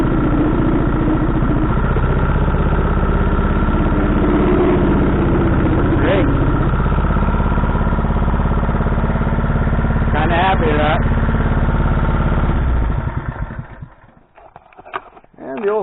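An old Honda water pump engine idles low with steady mid-pitched chugging, close and loud, with a short voice partway through before the engine note drops and roughens near the end.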